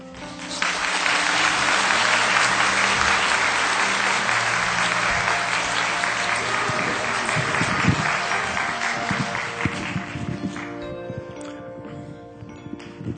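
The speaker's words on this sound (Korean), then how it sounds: "이 모든 박수는 하나님께 돌립니다." A church congregation breaks into loud, sustained applause, a dense roar of many hands clapping that holds steady for about ten seconds before thinning into scattered claps near the end.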